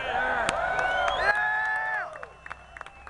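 A crowd at the state Capitol cheering and whooping during a rally over a governor's gun bill, loud overlapping shouts that die away into scattered claps and faint voices.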